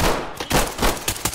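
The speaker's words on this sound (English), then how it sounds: "Stop shooting me." Close, loud gunfire from Ready or Not, a quick volley of four or five heavy shots in uneven succession.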